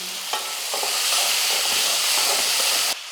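Tomato, tamarind and mint sauté for chutney in a hot pan, giving a loud, dense, continuous hiss and sizzle with faint stirring scrapes, close up and with no talk, cutting off abruptly near the end.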